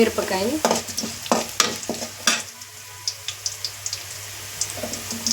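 Onions and curry leaves fry in a pan for a capsicum stir-fry, with close, loud scraping strokes of a spoon over a soft, continuous sizzle and no talking.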